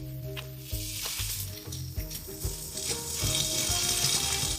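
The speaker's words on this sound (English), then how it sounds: "You might hear a crackling sound right now." Green peppers crackle and sizzle in hot oil after about half a cup of water is added, a dense, steady frying hiss with scattered pops that grows louder toward the end, with no voices.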